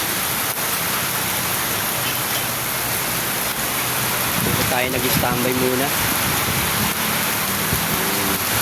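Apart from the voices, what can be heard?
heavy rain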